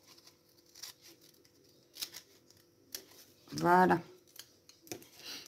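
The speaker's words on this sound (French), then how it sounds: "Je découpe tout de suite ce qui va dépasser" Scissors cutting paper to trim a Halloween scrapbook page layout, a few soft snips scattered amid quiet handling, then a louder crisp cutting burst, with a voice speaking briefly.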